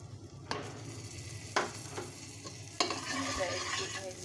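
Ground spice powders frying in hot oil in a pan, a soft steady sizzle with three distinct stirring knocks and scrapes, growing a little louder toward the end, no talk.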